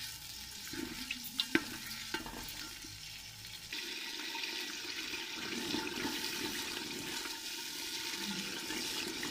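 Yogurt cooks with spices in a pan for a potato and drumstick curry, bubbling and sizzling steadily with a soft watery churn. Scattered stirring clinks are heard early on, then a continuous low simmer with no talking.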